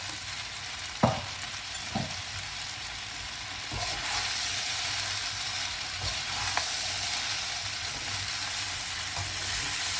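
Pineapple fried rice with cooked egg frying in a wok, giving a steady close sizzle with a few sharp spatula scrapes and knocks scattered through it.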